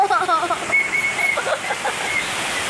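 Steady rain hisses and splashes nearby while people talk and call out over the watery noise.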